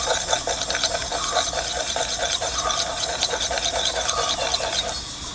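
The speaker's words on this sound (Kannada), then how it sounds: "ಇನ್ನು ನಾವು ಇದಕ್ಕೆ ಒಂದು ಅರ್ಧ ಚಮಚ ಆಗುವಷ್ಟು ಜೇನುತುಪ್ಪವನ್ನು ಬೆರೆಸ್ಕೊಳ್ಬೇಕು" Honey is stirred with a spoon into a small mix of lemon juice and ginger juice for a child's home remedy, giving a steady close scraping and rubbing sound throughout, with no talk.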